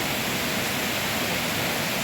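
Water rushes and flows loudly in a steady, dense wash of noise, unbroken and close, with no voices.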